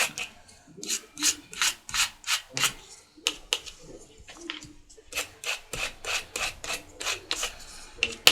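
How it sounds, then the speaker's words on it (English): A plastic gift card scrapes paste across a stencil on a junk journal page, giving a close, steady series of dry rasping strokes, roughly a dozen in quick rhythm with brief pauses between passes. "I'm gonna pick up some of this with my little gift card here, and I'm just gonna scrape it on"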